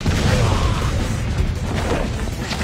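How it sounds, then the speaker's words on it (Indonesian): A dense, loud anime explosion blast roars as a character counterattacks with a bigger blast, a continuous rumbling crash with scattered bursts over a short span. "Bakugo lalu membalas dengan ledakan yang lebih besar dan bisa mengalahkan pria itu"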